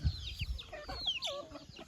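Native Swarnadhara chickens cluck and chatter softly nearby while eating drumstick (moringa) leaves, with light pecking and shuffling sounds at the low end, no talking.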